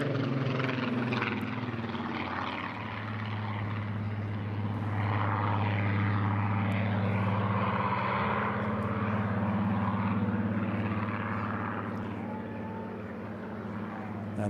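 Rolls-Royce Heritage Flight Mark 19 Spitfire flying past at an airshow, its piston engine a steady, droning roar with a low throbbing hum that swells slightly and eases, heard alone without talk.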